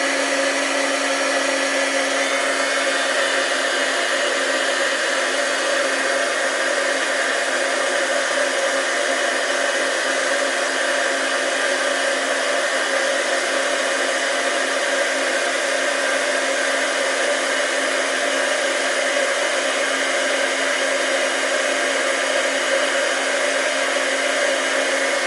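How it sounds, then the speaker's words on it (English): A heat embossing tool blows hot air steadily over stamped ink on a card-making project, a loud, continuous hairdryer-like whir that holds unchanged for about twenty-five seconds. "Okay, so now we're just going to heat emboss this real quick."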